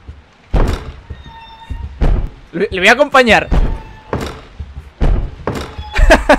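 Heavy knocks on a door in the horror game PuniTy, a Silent Hills P.T.-style version, landing as several loud, close thumps at irregular intervals, mixed with a voice talking and an eerie warbling sound midway.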